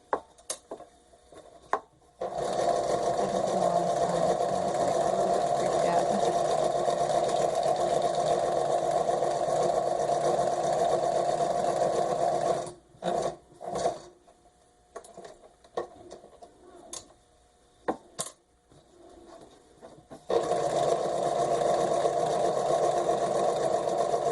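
A sewing machine stitches a fauxdori insert with a loud, steady, whirring run, pauses partway through, gives a few short bursts, then runs steadily again.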